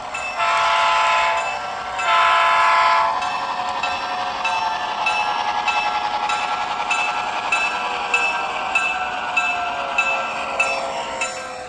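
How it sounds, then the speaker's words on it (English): An Athearn model diesel locomotive rumbles with chatty revving, and its horn sounds in bursts near the start. The rail sound stays loud and close throughout with no talking. "that's a great sound of diesel locomotive"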